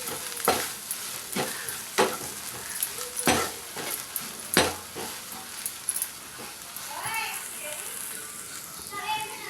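Egg rice with chilli sauce and soy sauce is stirred in a hot pan: a spoon knocks sharply against the metal every second or so over a soft sizzle, while children's voices carry faintly in the background.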